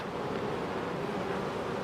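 Honey bees hum at a beehive in a dense, steady buzz that fills the whole short stretch, close and continuous with no talk over it.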